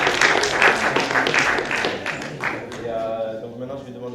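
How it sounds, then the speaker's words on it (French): Audience applause for a musician at a public talk event, broadband clapping spread across the first two seconds or so, then fading out as a voice and music-like tones take over. "Un dernier applaudissement pour elle."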